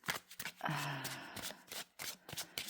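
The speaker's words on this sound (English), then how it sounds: "let's get some more cards." Tarot cards being shuffled up close, a quick series of crisp riffling and flicking bursts with brief pauses between them, fairly quiet.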